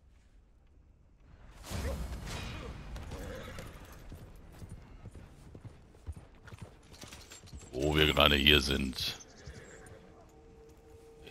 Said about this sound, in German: Jetzt ist das Pferd aber nervös